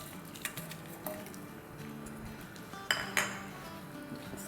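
Whole cumin seeds, dried red chillies and dried fenugreek sautéing in oil in a pot, heard as soft clinks and scrapes of a metal spoon against the pot, with two sharper clanks near the end and a faint sizzle underneath.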